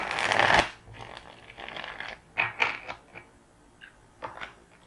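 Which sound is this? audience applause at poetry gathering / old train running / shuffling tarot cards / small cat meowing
shuffling tarot cards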